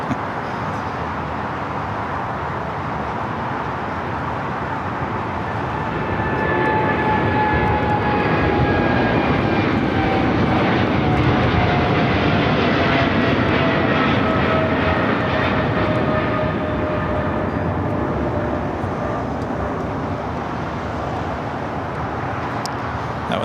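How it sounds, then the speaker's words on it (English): Aerologic Boeing 777 freighter jet taking off for Seattle, a steady broad engine roar that swells around the middle and slowly shifts pitch as it climbs away, heard from a distance with road traffic underneath. "That was the flight heading to Seattle. Aerologic 777 freighter."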